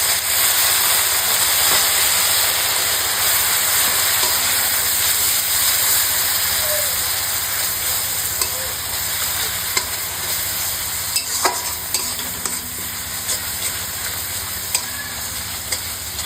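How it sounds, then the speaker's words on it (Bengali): Ground cumin, coriander and Kashmiri chilli powder fry with a splash of water in a pan for a vegetarian gram-flour dish, giving a steady close sizzle and hiss with occasional scrapes of stirring throughout. "আর দিব সামান্য জল যাতে মশলা লেগে না যায়।"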